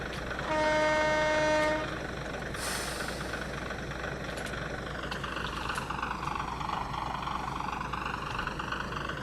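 A small train engine in Train Simulator 2016 on the Forest Rail mainline, its steady rumble running throughout after a brief toot of the horn near the start, with a faint whine rising and falling over the engine noise.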